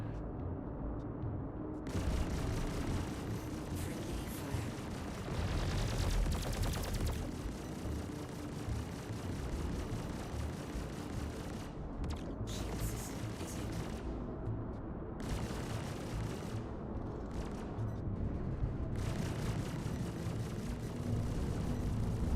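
Fairly quiet but steady gunfire in the video game Star Citizen rattles on under a constant rumble, in long runs with short breaks.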